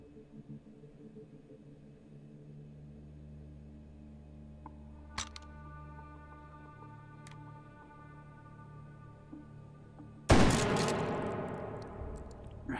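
Shotgun blast in the VR shooter Hot Dogs, Horseshoes & Hand Grenades: one sudden loud broadband report late in the clip, decaying into a ringing tail after a quiet stretch of low hum and a couple of faint clicks.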